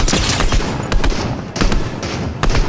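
Rapid gunshots in Fortnite, a loud volley of sharp cracks firing in quick irregular bursts, with a few louder reports standing out over the steady din.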